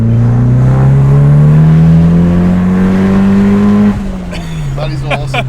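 A turbocharged Mitsubishi Lancer with a custom manifold pulls hard in second gear from 3,000 RPM, its engine note rising steadily and loudly for about four seconds before dropping off as a voice comes in.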